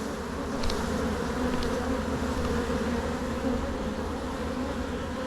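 A close, steady hum of many honey bees fills an open hive during inspection, holding an even drone throughout with occasional louder wingbeats from bees flying near.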